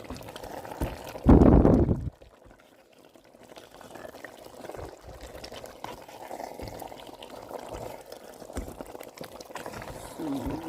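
Egusi soup with frozen spinach simmering in a pot, a soft bubbling and gurgle following a brief loud clatter at the start, with occasional light knocks throughout.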